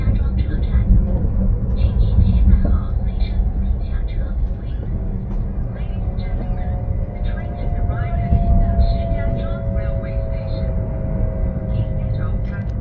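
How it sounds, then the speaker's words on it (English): Steady low rumble of a Chinese high-speed sleeper train decelerating toward a stop, heard from inside the carriage, with a faint falling whine under continuous rolling noise. "we slow down to make our second stop of the night"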